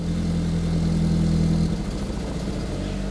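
An Audi TT Mk1 roadster engine with a fault idles roughly, a close, steady low drone that shifts to a more uneven, pulsing tone partway through, with no talking.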